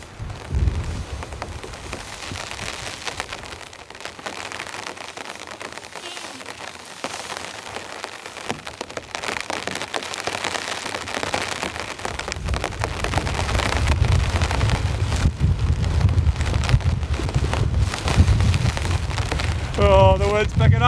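Heavy rain pours steadily during an extreme storm at a campsite with strong winds, a dense continuous hiss that swells louder in the second half, with rumbling gusts low underneath.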